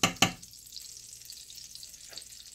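Butter dropped into olive oil in a frying pan: two quick loud clatters at the start, then a steady, soft hiss of frying that carries on alone.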